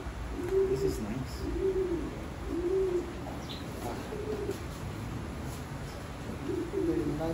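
Racing pigeons newly imported from Belgium coo in repeated low, soft phrases, about five bursts spread across the stretch, close by over a steady background hum.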